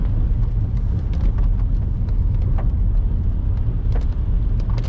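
A car drives slowly along a narrow road on a driving-test route, with a loud, steady low rumble of engine and road noise inside the cabin and faint clicks and rattles above it, no talking.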